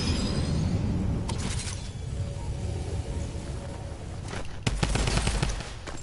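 Drum gun fire in Fortnite, rapid sustained automatic bursts over a steady low rumble, with sharper clusters of shots near the start and toward the end.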